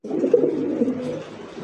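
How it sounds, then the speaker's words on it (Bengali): Pakistani Danish pigeons coo in a steady, close, continuous warble with no talking over it. "একদম পাকিস্তানি ড্যানিশ কবুতর"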